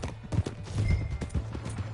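Horse hooves clip-clopping in Red Dead Redemption 2, a quick uneven rhythm of close thuds over a low rumble and steady background ambience.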